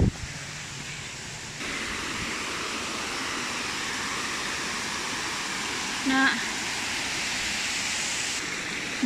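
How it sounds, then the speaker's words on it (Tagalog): Strong waterfall water on Braemar Hill in Hong Kong pours in a steady, close hiss, with a brief voice-like tone rising partway through. "Kusog kaayo buyag ang tubig guys."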